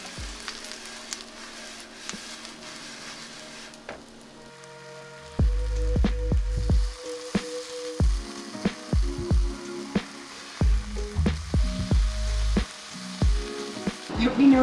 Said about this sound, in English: we've never made bread fried like this before